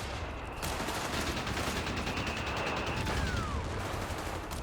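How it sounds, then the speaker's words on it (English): Rapid machine gun bursts in the real-time strategy game Company of Heroes 3, dense continuous gunfire and battle din throughout, with a faint whistling streak partway through; no talk. "Machine gunner tracks the pack out"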